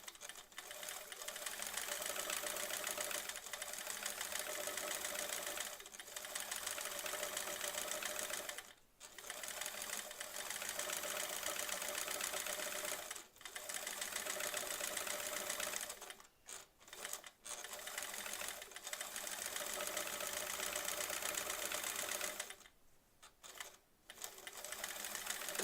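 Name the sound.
sewing machine running during free motion quilting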